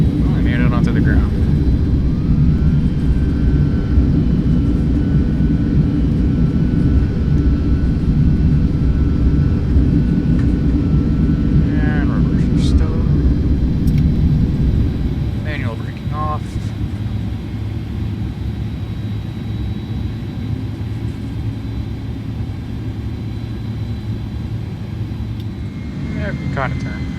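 An Airbus A310 in Microsoft Flight Simulator touches down and rolls out, a loud steady jet engine roar that drops to a quieter idle hum while taxiing, with a person talking over it.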